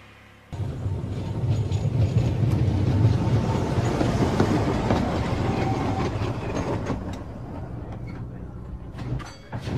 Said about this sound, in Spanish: Por la mañana volvieron a circular los tranvías.